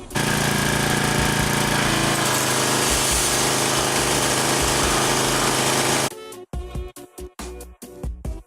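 A dirt bike is sprayed down with a pressure washer to pre-soak it, a loud continuous hiss lasting about six seconds before breaking into short, choppy bursts separated by brief pauses.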